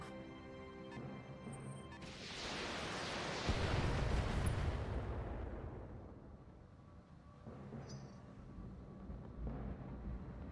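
A mech's reactor blows up in the video game Battletech: a rising roar swells into a heavy, sustained rumbling blast that slowly fades, with faint electronic tones around it.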